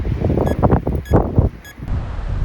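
Wind gusting across open desert ground at a wildlife refuge, a broad steady rushing roar that swells and dips, with buffeting against the microphone, close and fairly loud throughout.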